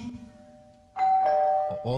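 A doorbell rings at an apartment door as plumbers arrive in a comedy sketch, giving a sustained electronic chime that enters suddenly after a quiet stretch, with voices talking underneath.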